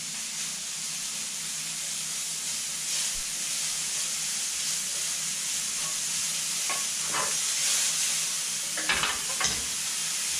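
A side dish frying in the same pan used for goose breast, with a steady loud sizzle and hiss throughout and a few stirring scrapes and clatters near the end.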